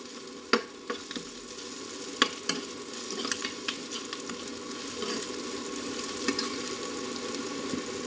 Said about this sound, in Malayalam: എന്നിട്ട് നന്നായിട്ട് തന്നെ ഒന്ന് ഇളക്കി കൊടുക്കുക.